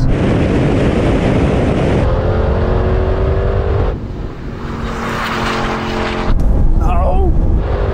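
Porsche 718 Cayman and Audi TT RS launching side by side in a drag race, loud sustained engine roar with rising revs and gear changes under wind rush.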